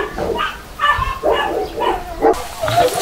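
A bulldog barks and yips several times in short bursts, close by, with whimpering sounds between the barks.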